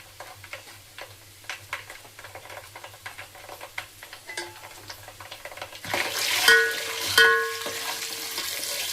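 Small crackles and pops of a tempering frying in a pan for gongura chutney, with light clicking stirring throughout; the sizzle swells louder for a few seconds near the end.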